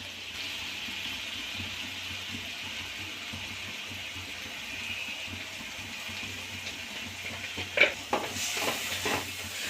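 Mushrooms and spices fry in a pan, with a soft steady sizzle under faint background hum and a few scraping stirs near the end.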